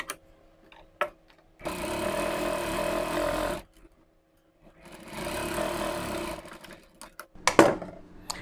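A sewing machine stitching blouse lining panels runs in two steady bursts of rapid, even whirring clatter, each lasting about two seconds, separated by quiet pauses, with a few close clicks and a handling rustle at the end.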